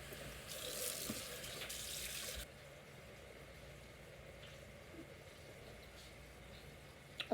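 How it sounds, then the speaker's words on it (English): A kitchen tap runs while hands are washed mid-recipe. A steady hiss of water lasts about two seconds and then cuts off, leaving a quiet room. "Wash my hands."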